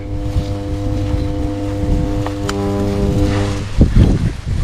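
A wau bulan kite's humming bow drones in the wind outdoors, a loud, steady stack of harmonic tones under gusty wind noise that breaks into rougher buffeting toward the end.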